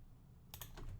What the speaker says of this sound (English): I'm going to let the player shoot by pressing the W key